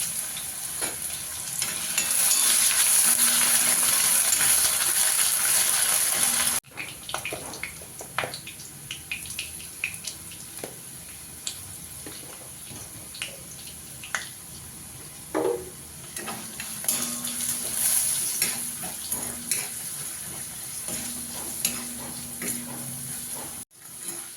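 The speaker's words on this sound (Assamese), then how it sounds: "পিঁয়াজ নিদিয়াকৈ মই আলু ফ্ৰাই কৰিছোঁ তেলত।" Sliced potatoes frying in hot oil in a wok without onion, a loud steady sizzle broken by scraping stirs and clinks, dropping quieter midway then swelling again.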